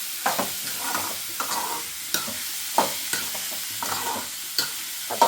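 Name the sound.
stirring food frying in a pan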